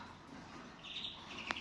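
Birds chirp faintly in a rainy stairwell, with a few thin high calls and one sharp chirp near the end over a low background hum.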